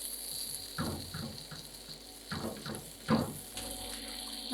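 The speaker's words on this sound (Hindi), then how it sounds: "दही डाल के हम इसे मज़ीद हल्का सा भूनेंगे।" Yogurt frying into a ghee-rich masala in a pot, a soft low sizzle with faint spattering and a few stirring scrapes, quiet and steady with no voices.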